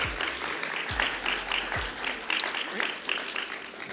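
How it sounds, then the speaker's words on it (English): An audience at a pinning ceremony applauds academic achievement award recipients, a sustained round of clapping at moderate level with a few voices murmuring beneath it. "I would invite you to give another round of applause to all the recipients of the Academic Achievement Awards."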